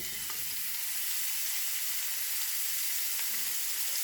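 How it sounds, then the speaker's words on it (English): Zatarain's andouille sausage searing in hot oil in a pan for sausage, potato and kale soup, giving a steady, dense sizzle and crackle that runs unbroken throughout with no voices. "we're going to sear up the sausage"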